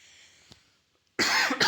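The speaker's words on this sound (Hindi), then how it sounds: "थोड़ा खांसी हो गया है।" A quiet stretch, then two loud, close coughs in quick succession.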